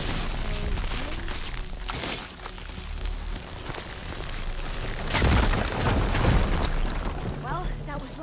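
A fire gleam explodes in Horizon Forbidden West with a deep, rumbling burst midway that swells over constant crackling ambience, while a voice talks.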